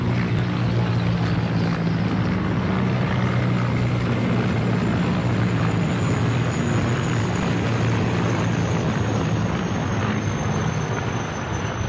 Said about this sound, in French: Les 2 hélicoptères Mi-35 se trouvent au niveau du flanc